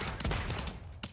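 Gunfire in the Realm Royale battle royale game, a dense burst of overlapping shots packed into a second, loud and close with a brief gap before a final couple of reports.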